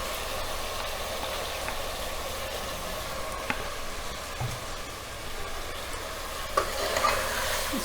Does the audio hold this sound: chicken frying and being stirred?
yes